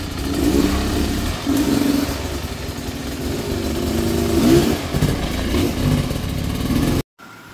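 Motorcycles on a muddy hard trail at Mt. Makiling rev and labor, a loud, close, continuous engine drone with repeated surges in pitch, running steadily until it cuts off abruptly near the end.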